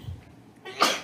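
A single sharp sneeze bursts out near the end of the moment in a lecture hall, rising loud from a quiet room backdrop with faint murmur before it.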